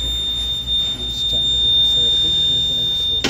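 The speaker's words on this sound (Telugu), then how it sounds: "స్టాండ్ అనేది రిమూవ్ చేసే వరకు బీప్ అనేది కంటిన్యూగా వస్తూనే ఉంటుంది." A TVS Jupiter 125 scooter's side-stand warning sounds a continuous, high-pitched electronic beep that holds steady throughout while someone talks over it.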